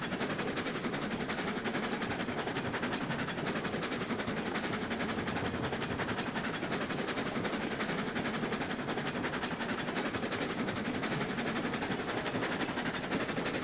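Steam locomotive in the video game Railroads Online pushing a string of loaded logging cars, giving a steady, dense mechanical rumble and clatter that runs continuously and loudly throughout, with no pauses.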